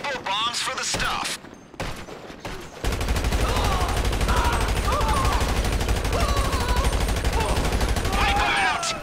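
Rapid, sustained gunfire with bursts and blasts during a GTA 5 Online Doomsday heist mission played on hard, loud and dense throughout, with a voice shouting over the opening seconds.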